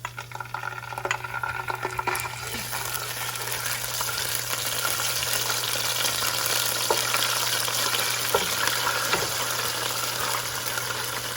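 Ginger and garlic fry in a pan for chicken pulao, giving a steady, fairly close sizzling hiss with faint crackles that runs unbroken and without talk.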